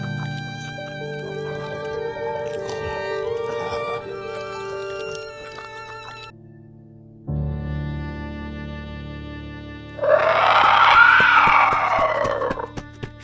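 A woman's scream in a zombie horror story, a loud, harsh, bright burst that rises out of a droning musical background near the end and lasts about three seconds.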